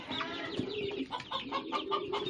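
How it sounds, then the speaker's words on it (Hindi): English Game and Splash Bantam chicks cheep and cluck close by in a short run of rapid, high chirps with no talking. "ये इंग्लिश गेम और स्प्लैश बैंटम के चिक्स हैं।"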